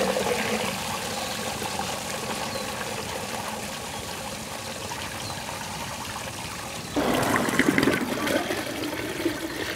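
Beer wort swirling into a vortex and draining into a 7-gallon pot during home brewing, a steady rushing water flow that grows louder and splashier near the end.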